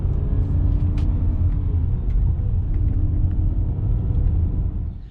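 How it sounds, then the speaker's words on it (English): A BMW E60 M5 pulls away from a standstill under steady throttle, a loud close engine rumble holding even for several seconds before fading at the end. "pull away straight away and keep pushing the throttle"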